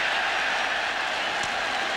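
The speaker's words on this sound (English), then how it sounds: "You can hear the cheer go up here at the stadium as John Robinson's Southern Cal team" Stadium crowd roaring steadily at a USC versus Notre Dame college football game, a broad continuous cheer heard from a distance, loud and sustained with no talk over it.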